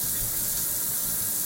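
Water gushing hard from a 3D-printed plastic vortex shower head with oversized holes, a loud, steady broadband hiss and spray heard up close and alone.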